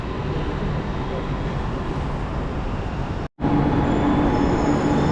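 Loud, steady rumble of a Chennai metro train moving along the track, with a faint wheel squeal and a momentary cut partway through, and some voices mixed in.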